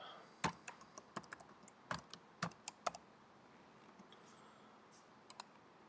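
Quiet, scattered keystrokes of a password being typed on a computer keyboard, irregular taps and clicks set against a faint room hum with no talking.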